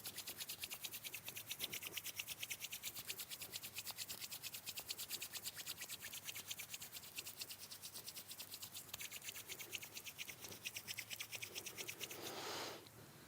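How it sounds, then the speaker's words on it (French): Two hands are rubbed together vigorously to warm them, a fast, even, rhythmic rasping close up that continues for many seconds and ends with a short, louder brushing swell. "je vous invite à joindre les mains, à les frotter l'une contre l'autre, avec beaucoup d'énergie"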